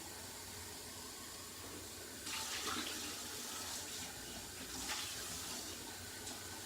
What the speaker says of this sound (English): it's taking my hot water a minute to get hot